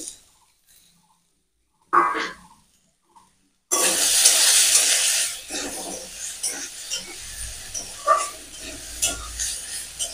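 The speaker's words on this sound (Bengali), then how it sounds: "আবার একটু নেড়ে চেড়ে সব মিশিয়ে নিলাম।" Chopped tomato and green chilies stirred in a pan: a few quiet scrapes at first, then a loud burst of sizzling and stirring that settles into intermittent spatula scrapes and clatter, with no talking.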